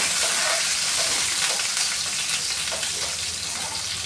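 Curry leaves frying in hot oil for a Kozhikode-style fish curry, a steady close sizzle with light crackles and occasional stirring, no voices.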